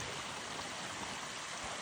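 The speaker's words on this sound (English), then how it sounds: "here's a real good shot of the amount of water flowing in from that void." Water pours in through a void at a dam with flashboards, a continuous broadband rushing hiss at moderate level, steady and uninterrupted with no voices.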